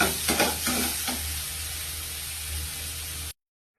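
Eggplant pieces with grated coconut sizzle and fry in a pan, a steady close hiss with a few scraping stirs early on before it cuts off abruptly.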